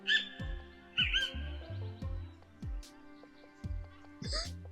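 Birds chirp and call close by in short tonal bursts, with a few sharper high notes. Under them runs a recurring low thumping pattern, and no one speaks.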